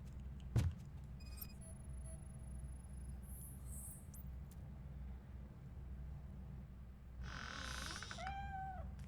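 A cartoon cat meows in a couple of short, rising calls after a sharp knock and brief squeaky effects, all over a low ambient rumble.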